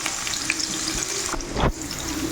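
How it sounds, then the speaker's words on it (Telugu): Chopped onions frying with a little salt in a pan for mango pickle give a steady, close hiss and sizzle, with a brief louder burst of crackle partway through. "ఆనియన్స్ ఇలా ఫ్రై అవ్వనివ్వాలి."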